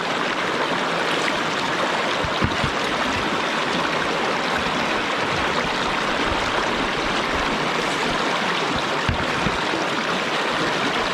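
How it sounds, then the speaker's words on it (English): Water rushes steadily through a gold sluice, a dense, loud, continuous wash of flowing water with no talking. "the water flow has been consistent"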